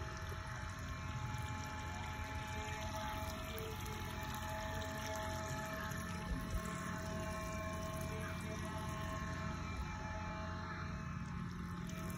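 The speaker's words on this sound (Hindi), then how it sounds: "पौधों को पानी दे रहा हूँ" Water running steadily while plants are watered and the ground around a homestead is sprinkled, a continuous rushing, splashing flow at close range with no speech.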